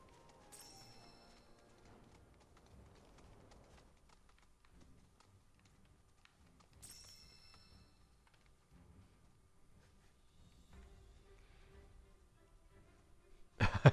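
Soft, quick clip-clop footfalls of a chocobo being ridden in Final Fantasy VII Rebirth, quiet and steady under faint game ambience, with occasional bright chime-like accents and a sharp burst at the end.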